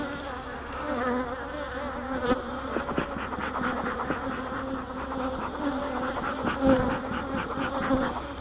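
Honey bees swarm densely around an open beehive during an inspection for queen cells and splits, a close, continuous buzzing with individual bees whizzing past.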